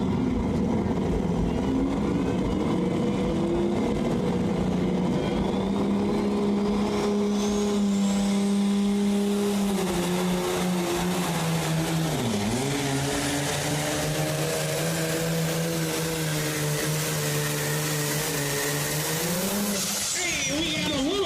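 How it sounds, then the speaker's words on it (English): At a county fair truck and tractor pull, a gasoline-engined pulling truck roars loudly and continuously, its pitch holding, then dipping sharply mid-run before climbing again, ending in a rising whine; a loud, close engine with no talk. "smoke coming out of that gasoline engine"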